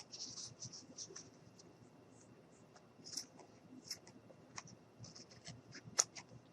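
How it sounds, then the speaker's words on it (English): Scissors snipping off extra craft material for DIY Santa pants, a few faint, quiet cuts and small scratchy ticks spread across a near-silent stretch, with one sharper snip near the end. "I'm just going to cut off the extra"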